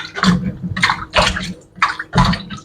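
Wheat flour dough is kneaded and squeezed by hand in a bowl of water to rinse out starch and bran for homemade gluten, giving a series of close, wet sloshing squelches.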